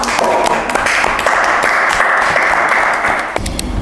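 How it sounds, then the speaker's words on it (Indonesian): A small studio audience applauds a guest at the close of a podcast session, with loud, close clapping that continues steadily for a few seconds before tapering off. "tepuk tangan dulu untuk Kak Cindy"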